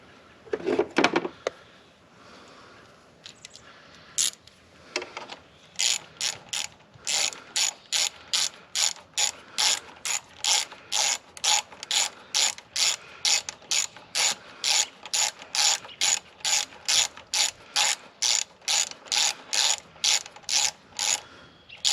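Ratchet clicking repeatedly as it drives a thermostat housing bolt on a 2015 Jeep Grand Cherokee Limited EcoDiesel, a steady run of close, sharp back-and-forth clicks after a brief fumble at the start.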